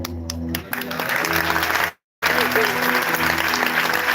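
Audience clapping at a church healing festival, a dense, steady wash of applause across the clip, broken by a brief total silence near the middle, with some voices and a sustained musical tone underneath.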